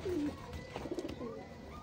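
A pigeon from a mature breeding pair gives a low, close coo at the start, followed by soft fluttering and rustling in a quiet loft.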